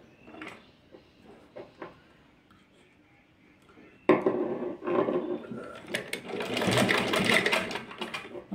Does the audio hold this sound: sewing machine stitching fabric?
yes